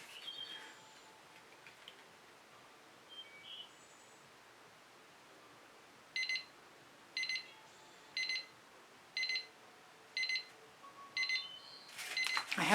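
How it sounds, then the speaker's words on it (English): A timer alarm goes off in a quiet room, beeping in six evenly spaced, sharp pulses about a second apart, with faint rustling before and a louder noise at the end. "I have a timer."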